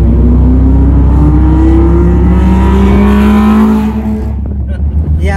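A Toyota Corolla AE92 with a 7A-FE engine fitted with individual throttle bodies revs loudly and close by, its rising and falling harmonic drone filling the space before dropping away abruptly near the end.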